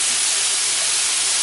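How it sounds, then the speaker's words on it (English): Ground beef, one to one and a half pounds, sautéing in a hot pan, giving a loud, steady, unbroken sizzling hiss. "we're just going to saute this till it gets a little bit of brown"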